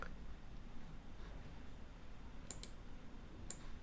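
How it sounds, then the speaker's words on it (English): A computer mouse right-clicked a few times: faint, sharp little clicks, a close pair and then a single one, against a quiet room hum. "Right click on this"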